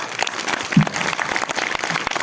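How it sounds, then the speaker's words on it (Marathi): At a kirtan in Saregaon, the audience breaks into hearty applause, with many hands clapping in a close, continuous patter. "सगळ्यांनी एकदा अंतकरणातून टाळ्या वाजवा"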